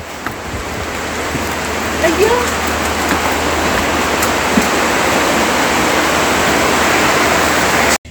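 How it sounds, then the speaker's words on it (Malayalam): Heavy rain pours down outdoors as a loud, continuous, roaring wash of noise with no let-up. A person briefly exclaims once, and the sound cuts off abruptly at the end. "വലിയ മഴ"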